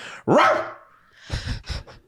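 A person imitating a dog, letting out one loud drawn-out bark-like yelp followed by a quick run of three shorter yips, alone with no other talk.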